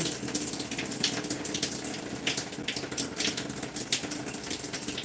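Water runs steadily from a tap during a hair wash, a close, constant splashing gush with no speech over it.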